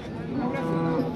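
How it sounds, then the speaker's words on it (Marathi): A large cow moos at a busy cattle market in Modnimb, Solapur, a single low drawn-out call heard close by over faint crowd murmur. "मोठ्या मापाची गाय बघा"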